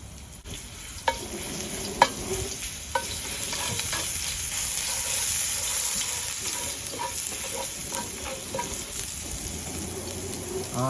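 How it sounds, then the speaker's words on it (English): Garlic stir-frying in about two tablespoons of oil in a hot wok, a steady close sizzle with occasional sharp clinks and scrapes of stirring. "Now we heat up the wok and put some cold oil in it. Just about 2 tablespoons. Kind of stir fry the garlic."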